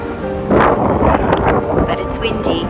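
Gusty wind blowing outdoors on a warm winter day in Rome, a broad steady rush with stronger buffets, heard close as it hits the microphone.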